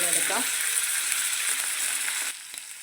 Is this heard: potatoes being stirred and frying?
yes